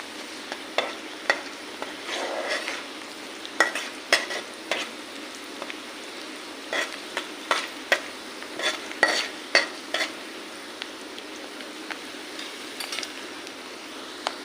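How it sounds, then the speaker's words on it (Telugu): A spoon stirs turmeric through a frying pan for a ridge gourd egg curry, giving a soft steady sizzle under repeated light scrapes and clinks of the utensil against the pan, close and moderately quiet. "నెక్స్ట్ కొంచెం అయితే పసుపు వేసి కలపండి"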